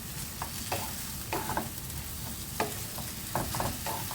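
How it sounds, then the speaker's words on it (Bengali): Egg and snake gourd sizzle together in a pan, with a continuous frying hiss and irregular spatula taps and scrapes as the mixture is stirred. "এইবার পুরো ডিমটাকেই চিচিঙ্গার সাথে মিশিয়ে নিতে হবে।"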